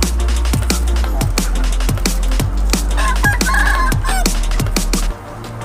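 Backyard chickens, including mixed-breed young birds, cluck and squawk in close, rapid bursts over a constant low hum, with a brief higher crow-like call in the middle.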